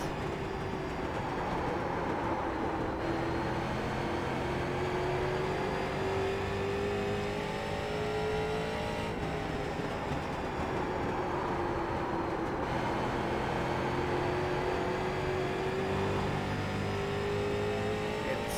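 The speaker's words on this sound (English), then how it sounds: "We go on board with McRae, you can hear the very gentle throttle inputs to avoid cooking off tires." Onboard a street stock race car during a Pro-Am round, the engine drones loud and continuous, its pitch easing gently up and down under light throttle inputs, with no voices.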